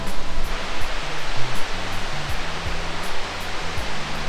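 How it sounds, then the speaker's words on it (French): A waterfall near the village of Autoir in the Lot gives a constant, loud rush of falling water, with a low wavering hum running underneath throughout. "Et derrière moi, on voit la cascade."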